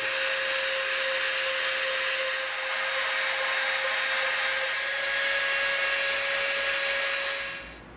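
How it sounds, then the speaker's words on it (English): A Dremel rotary tool grinds and cleans up scroll-saw-cut edges on EVA foam for a 5th Element police blaster prop, a steady high-pitched whine with a constant tone running close and loud for the full length before cutting off. "now we're gonna get our Dremel out and we're gonna kind of clean up around here where we hit it with the scroll saw"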